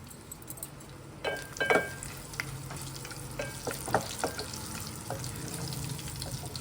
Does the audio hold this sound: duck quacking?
no